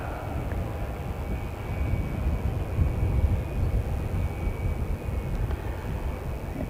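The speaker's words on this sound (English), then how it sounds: "Christchurch Melbourne service by JetStar, going down to get the majority of the runway" A JetStar airliner on the Christchurch to Melbourne service rolling down the runway for takeoff, a distant, steady low roar of jet engines with a broad rumble and no talk.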